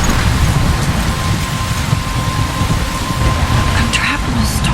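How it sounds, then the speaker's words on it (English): Steady rain and rumbling thunder from a storm in the video game Life Is Strange, a dense continuous wash with low rolling booms and no pauses. "I'm trapped in a storm?"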